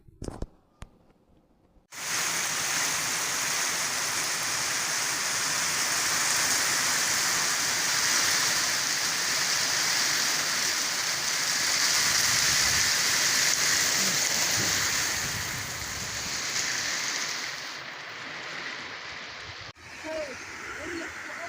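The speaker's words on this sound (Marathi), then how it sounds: "नगरसूल गावात देखील जोरदार पाऊस बरसला आहे" Heavy rain pouring down in a village in Nagarsul, a dense steady hiss that starts after a short pause and continues loud and unbroken for about twenty seconds before easing slightly near the end.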